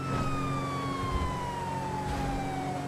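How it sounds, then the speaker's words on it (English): A loud electronic police siren from a modern siren mod for GTA V wails with a long, slow falling tone and bright harmonics, steady and close, with a low engine-like rumble underneath. "With the modern siren pack, we get modern, real-world siren tones that sound much closer to what you'd expect"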